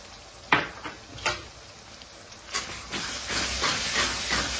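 Chicken curry fries in a pan as yogurt is stirred in, with a hissing sizzle that grows fuller and steamier and is broken by a few scraping stirs near the start.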